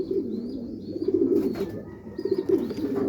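Racing pigeons in moulting season coo in a low, continuous murmur close by, with a faint thin call on top and no voices.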